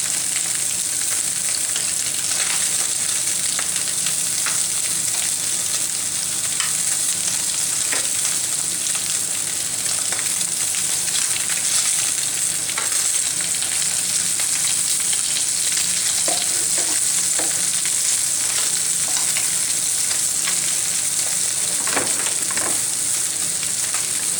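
Pandora fish (mercan) fry in a pan with a dense, continuous sizzle that stays loud and close throughout, with occasional faint stirring or utensil sounds and no talking.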